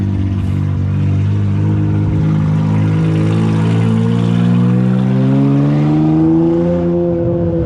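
A roll racing car with open headers at a Sydney street roll racing meet revs hard: a loud, close, continuous engine roar that climbs steadily in pitch over about eight seconds.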